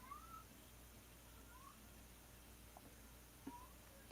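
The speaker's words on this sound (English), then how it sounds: "Oh yeah, that's a cat." A cat meows faintly several times outside a door, short thin cries scattered over a quiet room background during a live stream, distant and soft with no talk over it.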